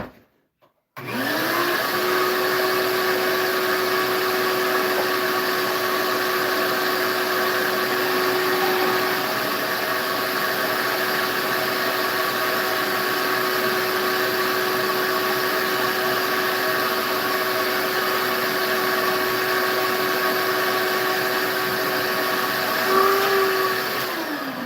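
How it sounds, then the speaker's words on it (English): Shop vacuum cleaning up a woodworking workshop, switching on abruptly and running with a steady loud whine and broad rushing hiss for over twenty seconds, pitch dipping slightly near the end, with no talk. "Vacuum this up real quick."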